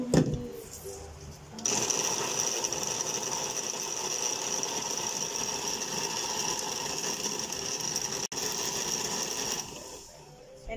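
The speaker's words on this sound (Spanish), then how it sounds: "y vamos a poner a licuar" A kitchen blender purees tomato with lime juice, its motor whirring steadily and loud up close for about nine seconds. It starts and stops abruptly, with no talking over it.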